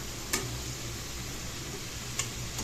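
Mushrooms cooking in their own released water in a pan, stirred briefly, produce a steady low sizzle with two sharp ticks of a utensil against the pan, no voices.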